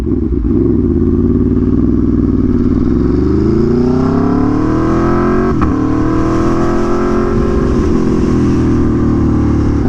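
A repaired Aprilia Tuono motorcycle engine runs loud and close for the whole stretch, its pitch rising and falling as the throttle is blipped, with a clattering mechanical edge and no voices.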